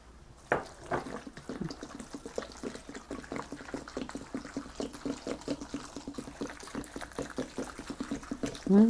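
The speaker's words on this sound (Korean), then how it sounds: "풀물 써놓은 것도 또 붓게요." Rice-flour paste water poured into a bowl of water kimchi, a steady trickling liquid flow with many small splashy pulses, close and fairly quiet, continuing throughout with no talk.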